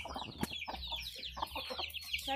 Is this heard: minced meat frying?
no